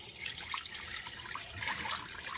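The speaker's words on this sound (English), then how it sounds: "And then we're going to add water to just fill it up." Tap water runs steadily into a cooking pot for boiling chicken, a continuous close splashing hiss with slight gurgles, no talk over it.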